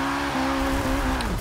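A street-tuned Nissan S13 sliding sideways in an Xbox racing game: a steady, close engine drone holds pitch with small stepped shifts, overlaid by tire noise, brief and alone.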